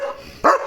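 A German shepherd named Leo gives a single sharp bark, loud and close, standing out against a quiet indoor background.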